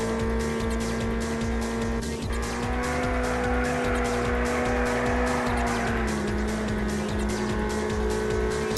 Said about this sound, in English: the engine sounds are fine, there's nothing special, but they're serviceable, the tyre squeals are exactly what you'd expect